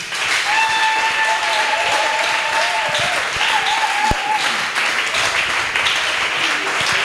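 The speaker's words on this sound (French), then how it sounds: "Est-ce qu'on peut lui acclamer?" A church congregation applauding and cheering in acclaim of Jesus during a French-language service: sustained, dense clapping fills the room, with voices and a few raised shouts mixed in throughout.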